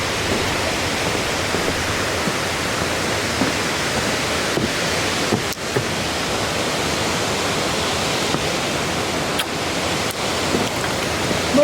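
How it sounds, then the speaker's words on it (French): Waimoku Falls on Maui, Hawaii, roars as a steady, dense wash of falling water close by, loud and unbroken throughout, with no voices over it. "On a atteint les chutes d'eau Waimoku."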